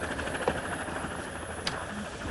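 A helicopter engine drones steadily, with a rhythmic rotor flutter under faint talk and a few brief clicks, recorded from close by in 1984 Cambridgeshire.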